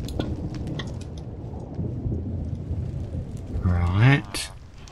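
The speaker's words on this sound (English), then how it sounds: "Oh, and this rain." Rain falls on a dark, stormy night as a steady hiss of drops with low rumbling beneath. A voice speaks briefly near the end over the downpour.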